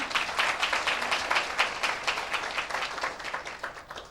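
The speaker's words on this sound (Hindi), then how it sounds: "जोरदार ताली दे सकते हैं।" Congregation at a Hindi-language church service breaking into applause, a rippling burst of clapping that swells then gradually thins over a few seconds, with no speech.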